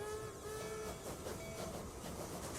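A train running in the simulation game Transport Fever 2, a continuous rolling rail rumble with clickety-clack and a brief horn tone early on, moderately distant, no voices.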